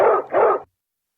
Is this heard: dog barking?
yes